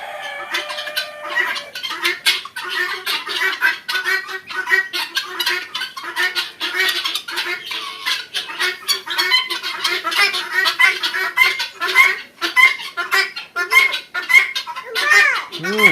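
Titli and Tiger breed chickens on a poultry farm in Jamalpur, Bakshiganj, clucking and calling in a busy, continuous flock chorus with occasional sharper squawks throughout.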